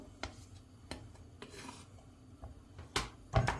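Chopped onions tipped into a cooking pot for a smoked-eggplant kavurma, with soft scraping and a couple of sharp metallic clatters near the end, close by.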